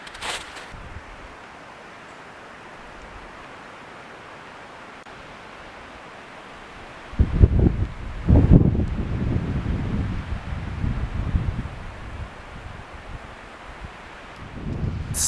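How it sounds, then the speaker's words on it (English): Wind at a mountain lake starts as a faint steady hiss, then strong gusts buffet the microphone from about halfway through with loud, uneven roaring bursts. "Still windy."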